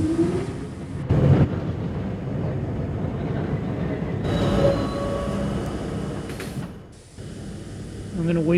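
Video-game R40 Slant C subway train running through a tunnel, with steady rumbling wheels, metallic squeals and clanks, and a short break in the sound partway through, while a voice speaks over it.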